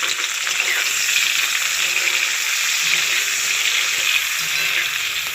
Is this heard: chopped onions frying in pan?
yes